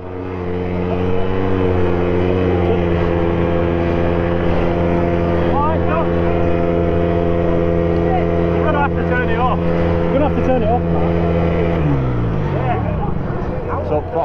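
A moped engine with its throttle stuck on, at a charity four-hour enduro race, holds a loud, steady high-revving drone. It winds down near the end, with voices faintly audible over it.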